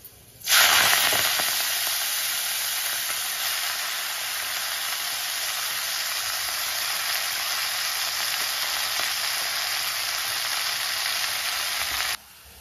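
Fenugreek greens hitting hot oil with chopped garlic in a pan, a loud sudden sizzle that settles into a steady, even frying hiss for about twelve seconds, then cuts off.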